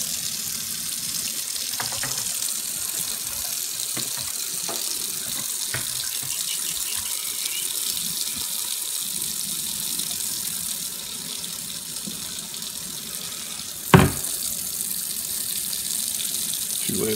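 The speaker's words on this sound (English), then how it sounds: "and then get them rinsed off" Tap water runs steadily under a sink while bottles are rinsed, a continuous hiss with faint clinks and one sharp knock near the end.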